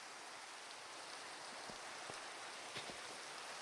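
Rain falls in Minecraft while a character stands alone on a hill, a steady soft hiss of rainfall with a few faint drip-like ticks, distant and even, no voices.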